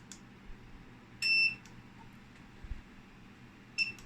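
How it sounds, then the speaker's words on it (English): An Armac 650 UPS sounds its alarm as short, sharp electronic beeps, two clear bursts a few seconds apart over a quiet background hum. "I will turn off the beeping"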